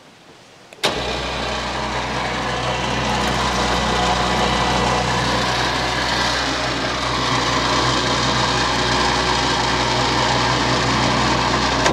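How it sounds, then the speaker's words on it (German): An electric winch on a Ford Ranger hunting truck, switched on by remote control, starts with a sudden loud click and then runs as a steady, continuous motor whine and hum. "Die Seilwinde kann ich mit der Fernbedienung schalten."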